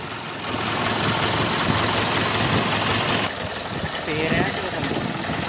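A 2013 Mahindra 575 DI tractor engine runs steadily and loudly up close with a rough, knocking idle rhythm, while someone talks over it in the second half.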